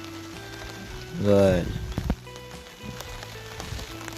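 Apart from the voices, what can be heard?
rain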